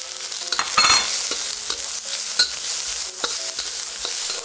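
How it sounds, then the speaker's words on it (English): Vegetables stir-frying in a hot wok: a steady, loud sizzle punctuated by metallic clatters and scrapes as the food is tossed. "After a quick 20 to 30 seconds of stir frying"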